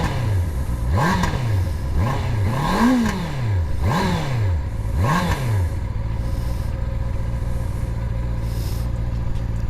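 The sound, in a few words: Honda CB650R motorcycle engine with stock exhaust revving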